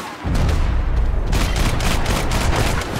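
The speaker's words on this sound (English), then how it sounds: "Ooh, I think he shot me." Dense, loud gunfire from the video game Max Payne 3 fills the moment, a rapid fusillade of overlapping shots and booms that rolls on steadily for several seconds without any voices.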